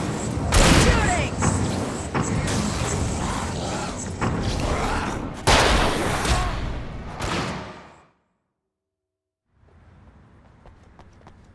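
Dense, rapid bursts of gunfire in the video game Alan Wake crackle loud and close for several seconds, then cut off abruptly into silence before faint ambient sound returns.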